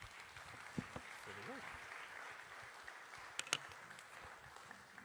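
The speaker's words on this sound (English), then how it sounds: "I think a round of applause for the" Audience applause at a book talk, a soft, fairly faint patter of clapping from the room beneath a speaking voice.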